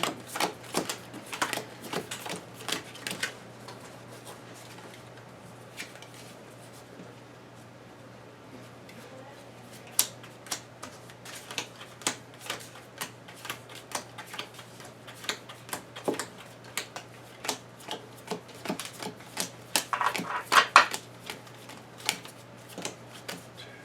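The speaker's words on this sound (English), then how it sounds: "So I'm gonna shuffle these really fast." Fantasy adventure game cards shuffled quickly by hand at a table, a quiet series of sharp riffling clicks and taps in irregular bursts, with faint background murmur.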